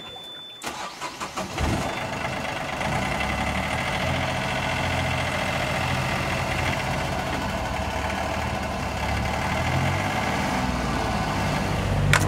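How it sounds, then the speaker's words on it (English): A sailboat's diesel engine cranks and catches, then settles into a steady, loud mid-pitched idle that runs on alone with no talk. "You want us to start the engine?"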